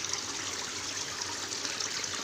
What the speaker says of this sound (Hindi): ये सहस्त्र धारा की मीठी मधुर ध्वनि से हम आनंदित हो रहे हैं